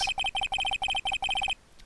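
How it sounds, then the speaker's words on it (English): A cellphone ringtone song in the Phoenix Wright: Ace Attorney video game, a bright electronic melody of quick repeated beeping notes in rhythmic groups that plays for about a second and a half and then stops. "I know that song your phone plays when it rings."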